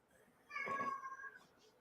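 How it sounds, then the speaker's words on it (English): A cat in heat lets out a single drawn-out, wavering meow lasting about a second, faint and somewhat distant against a quiet background. "Some cats in heat."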